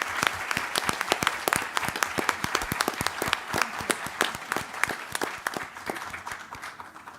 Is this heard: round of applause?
yes